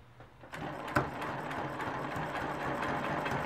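A sewing machine stitches a row of a quilt, starting from near quiet, then running with a steady, close mechanical whir and rapid rhythmic needle ticking that holds to the end.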